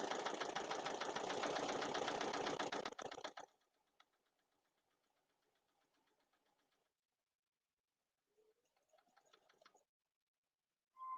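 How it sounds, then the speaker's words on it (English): A domestic sewing machine stitches fabric for a quilted potholder, a loud close rapid mechanical whirring run for about three seconds, then a faint low hum and a short second burst of stitching with no talk. "I'm going to stitch just a tad off of the fabric"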